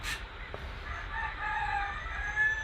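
A rooster crows at a distance, its drawn-out call rising faintly over a low background rumble, with no one speaking.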